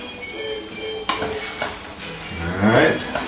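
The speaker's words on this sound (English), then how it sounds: "So you can see once it's cooked a little bit below, you stir it" Salt cod and eggs stirred in a pan over low heat, with a utensil scraping and clinking against the pan over a steady sizzle. The scrapes get busier toward the end, and there is no talk.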